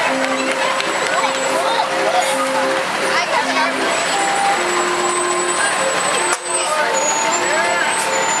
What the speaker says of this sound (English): And now, some fire trucks.